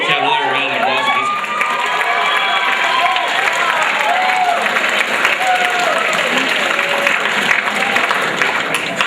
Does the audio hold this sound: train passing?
no